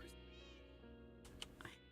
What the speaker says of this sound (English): Now I can hear cats meowing at me.